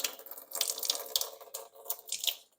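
Water runs from a hose through an under-sink ultra-filtration filter into a sink, a fluctuating splashing stream with spurts and brief lulls, close by and with no talking.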